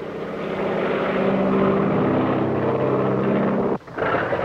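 A World War I propeller training biplane flies over an airfield with a loud, steady droning engine hum that holds for several seconds, briefly cuts out near the end, then picks up again, with no speech.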